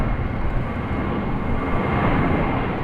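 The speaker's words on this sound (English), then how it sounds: "Beautiful takeoff for the United 737-700." Steady, fairly loud jet engine roar from a United Boeing 737-700 airliner on its takeoff run at Raleigh-Durham International Airport, a continuous broadband rush with no voices.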